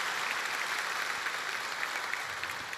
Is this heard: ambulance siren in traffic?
no